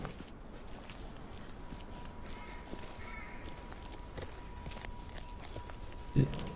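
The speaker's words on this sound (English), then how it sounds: "I hear footsteps." Footsteps crunch faintly and steadily along a forest path in the indie horror game Through the Woods, a low, continuous shuffling texture beneath quiet ambience and a voice talking.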